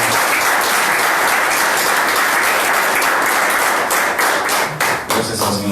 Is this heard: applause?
yes